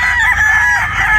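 Backyard chickens and a rooster at a poultry keeper's yard: a loud, close crowing call rings out, drawn out and strained, with clucking hens underneath.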